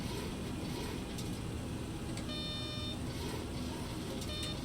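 A Boeing 727 cockpit warning in the FlyJsim flight simulator beeps in short repeated tones, faint against a steady loud roar of engine and airflow noise.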